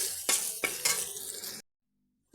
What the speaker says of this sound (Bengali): এই মশলা যোগ করেছি এটা আমি নেড়ে করে নিচ্ছি